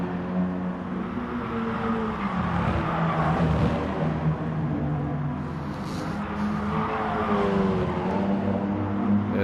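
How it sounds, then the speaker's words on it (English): Race car engine in a sprint race of a racing video game, a steady loud drone that rises and falls as the car is pushed hard, continuous throughout with no talk. "Really pushing the car now."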